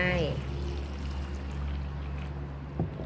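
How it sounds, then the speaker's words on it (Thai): Limewater is poured slowly over soaking carissa (karanda) fruit pieces, a continuous close pouring stream over a low steady hum that fades slightly toward the end. "ค่อยๆเทน้ำปูนใสลงไป"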